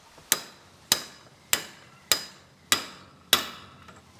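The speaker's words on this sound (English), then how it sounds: "Now I'll tap this bearing here in." A hammer drives a bearing into a transfer case by striking a socket during a rebuild of an HJ45: six sharp metallic taps at an even, unhurried pace, close and ringing briefly after each blow.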